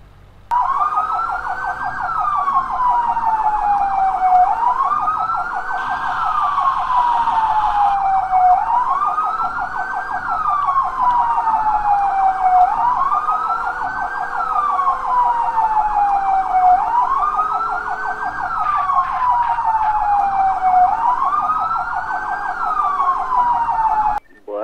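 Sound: police siren in video game

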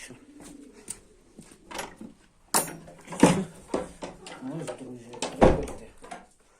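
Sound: pigeons cooing

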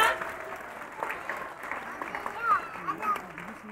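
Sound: applause

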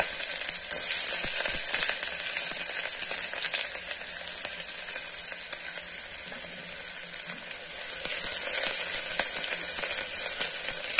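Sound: onions frying in pan

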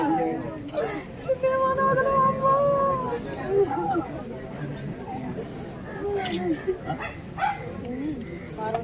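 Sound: police dog squad dogs barking

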